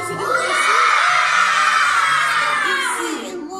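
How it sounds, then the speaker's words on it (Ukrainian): A group of children shouts together in one loud, sustained yell during an indoor movement warm-up game, rising quickly and holding for about three seconds before fading. "Ми всі дружня дітвора, тож разом кричимо."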